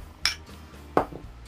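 Eggplant appetizer being moved into a serving dish: two brief clinks of a utensil against dishware, about three-quarters of a second apart, close and fairly quiet, with no voices.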